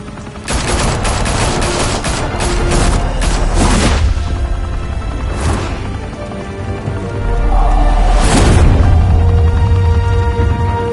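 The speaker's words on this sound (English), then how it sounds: "Open fire!" Heavy gunfire from the video game Batman: The Telltale Series, a loud continuous barrage of shots with booming impacts, building toward the end, alone with no talk.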